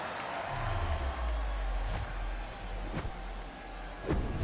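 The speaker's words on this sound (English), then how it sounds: "The crowd is amped up, ready to get this season underway" A video game baseball stadium crowd in MLB The Show 23 at an opening-day Giants at Yankees game: a steady broadband murmur of fans, with a few dull thumps breaking through.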